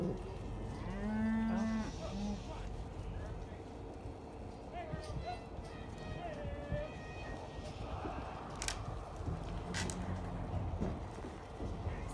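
Cattle moo repeatedly in a snowy corral as the herd circles, several drawn-out lowing calls near and far, with someone talking over them and occasional hoof and movement sounds.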